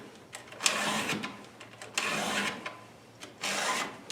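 A file is drawn across a chainsaw chain to sharpen its teeth, giving three close, rasping strokes separated by short pauses.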